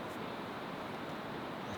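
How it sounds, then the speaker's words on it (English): Kunene River flowing in Namibia, a steady broadband rush of water filling the whole clip, close and constant with no voices. "That's the river."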